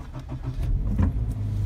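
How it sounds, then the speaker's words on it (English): A car engine starts up in a parked vehicle. A short cranking rhythm is followed by a low, steady idle, heard close and alone. "Then start the engine."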